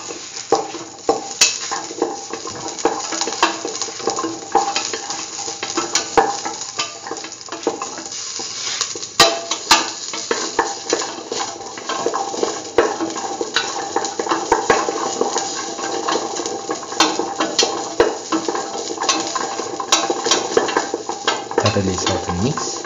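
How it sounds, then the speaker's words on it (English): Green tomato curry coconut dip sautéing in a pan, with steady scraping and stirring strokes over a continuous sizzle, close and busy throughout, with a few sharper utensil knocks against the pan. "Thoroughly saute and mix."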